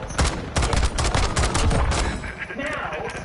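Semi-automatic gunfire in a ranked Warzone match: a loud, dense string of quick shots fired in rapid succession, sharp reports overlapping with their echoes for the whole stretch.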